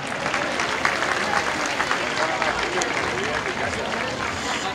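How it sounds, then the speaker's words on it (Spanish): A crowd applauds at an awards presentation during a festival competition of cornet and drum bands, a dense, continuous roar of clapping with a hubbub of voices mixed in. "Fortísimo aplauso"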